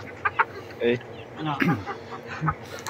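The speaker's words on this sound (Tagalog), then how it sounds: "nagplaplano na mag-aalaga ng mga ganitong klaseng manok, heritage chicken" Heritage chickens about four to five months old clucking in short, uneven bursts, near and moderately loud, over background murmur.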